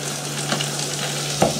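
Onions fry in melted margarine or butter in a pan for pea soup, a steady close sizzle with a low hum beneath and a brief louder crackle near the end.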